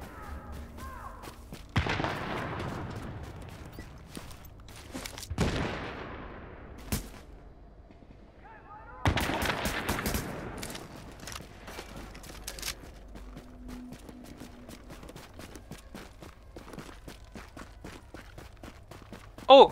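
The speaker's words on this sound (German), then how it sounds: "Wo die Schüsse kommen von rechts und der Schutzraum ist links." Gunfire in the video game Tom Clancy's The Division: sharp, loud shots and bursts ring out with echoing decays, interspersed with quieter rapid footsteps and thuds in a tense urban firefight.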